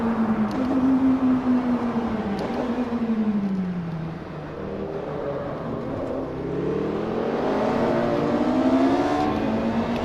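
An electric-motor hybrid supercar in the Assetto Corsa racing game accelerates with a loud, continuous whining drone that rises and dips in pitch as speed builds, steady and unbroken throughout.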